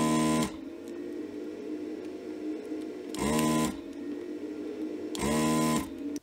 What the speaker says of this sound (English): I don't wanna waste this board and this socket, so I'm gonna desolder the socket